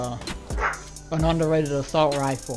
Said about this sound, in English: I'm sorry if you hear the dogs barking in the background